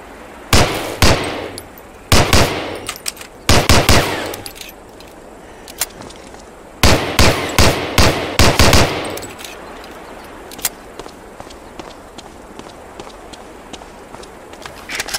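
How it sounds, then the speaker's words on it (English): Gunfire from a .45 pistol on a shooting range in the video game Medal of Honor: Allied Assault, loud sharp shots fired in quick clusters of two to four with short pauses between them, then a few fainter clicks. "Try a couple of shots on that target with your 45."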